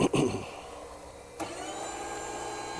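A valve grinder motor whirs steadily after a clunk of startup noise, a sharp click near the middle, then a continuous even hum and faint whine through to the end, with no talking.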